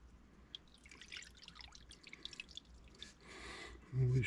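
AC coil cleaner drips out through a drain line, faint scattered drops and a light trickle against a quiet background hum, with a louder splash of liquid near the end.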